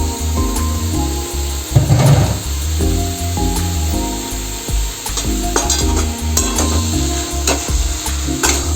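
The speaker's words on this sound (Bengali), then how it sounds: "এখন আপনি ওই সেদ্ধ করা আলু আর এঁচড়টাকে আমি দিয়ে দিলাম, মশলার সাথে একটু মিক্স করে নেব ভালো করে" Boiled potato and jackfruit stirred with spices in a pan, the spatula scraping and clacking in irregular strokes over a steady sizzle, with music playing throughout.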